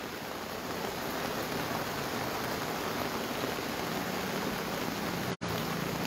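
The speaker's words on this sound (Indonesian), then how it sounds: "Jadi di Kabupaten Ngendekang saat ini juga sedang berlangsung hujan" Heavy rain falls steadily across Enrekang regency in South Sulawesi, a dense, even hiss of downpour with no voices, briefly cut out for a split second near the end.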